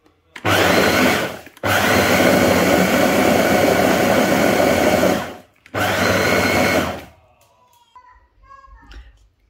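Electric grinder whirring loudly as it grinds sesame seeds for sellou, a Moroccan sweet: two long sustained bursts with a short pause between them, then it stops and only faint clinks and rustles remain.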